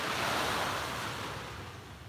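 Small ocean waves churning at sea, a steady broad wash of surf with some wind noise on the microphone, loud at first and easing slightly, with no voices.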